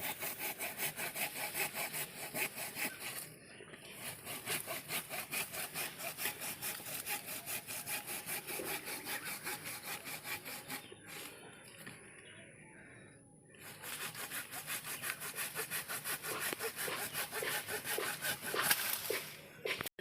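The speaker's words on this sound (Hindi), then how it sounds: "इस मोटे से डाली को काट दिया है" A hand saw cuts through a thick lemon tree branch with steady, continuous back-and-forth strokes, loud and close, pausing briefly twice before resuming the rhythmic rasp.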